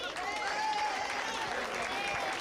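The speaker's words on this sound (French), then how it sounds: "Éric Ciotti, on peut l'applaudir." Crowd at a French legislative election rally for a right-wing candidate clapping, steady and dense throughout, with a voice ringing over it.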